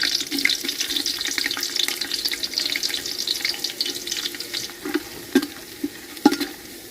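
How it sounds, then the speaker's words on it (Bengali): Bay leaf, cardamom, cinnamon and chopped ginger frying in soybean oil for pulao, a close continuous sizzle with a few louder crackles toward the end and no voices. "মশলা হালকা ভাজা হয়ে গেছে।"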